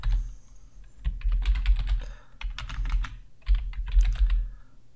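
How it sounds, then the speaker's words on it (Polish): Fingers tap on a computer keyboard in quick bursts of close, crisp clicks, with short gaps between the runs of keystrokes. "No to wpisujemy first name"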